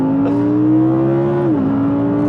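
Close, loud engine drone from an Audi R8 V10 pulling away from a standstill on a slippery, cold-tyred track, a steady rising tone with a brief dip near the end as the revs shift, no voices.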